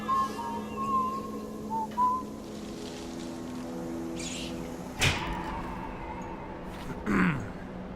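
Guards whistle idly in the game Dishonored, with a few short, thin tonal whistle phrases drifting over a steady ambient hum, plus occasional soft knocks.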